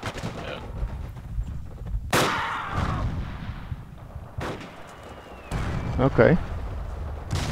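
Gunfire from a rooftop position in the WWII shooter Forgotten Hope 2, Fall of Tobruk map, with several loud shots cracking over a steady battlefield rumble while someone speaks briefly.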